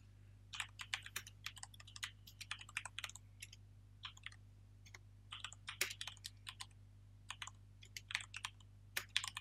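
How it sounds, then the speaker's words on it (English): Close, quiet typing on a computer keyboard comes in quick bursts of key clicks separated by short pauses, with a low steady hum underneath. "If I can't paste, I'll just type the beginning."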